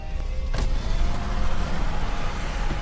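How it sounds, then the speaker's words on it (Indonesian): The electric power window of a Toyota Hilux Double Cabin door hums steadily as the glass lowers all the way, a close, continuous motor whine over a brief click at the start, with no voices. "kacanya bisa dibuka full"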